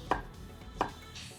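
A knife cuts thin slices of peeled cucumber on a board, two crisp chops about 0.7 seconds apart, close and clear with quiet room tone between them.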